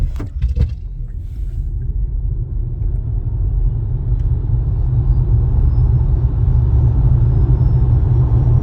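A Polestar 2 dual-motor electric car accelerating hard from a countdown start, with a deep, steady road and cabin rumble that builds evenly and a faint rising motor whine, heard from inside.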